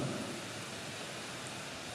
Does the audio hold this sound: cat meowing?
no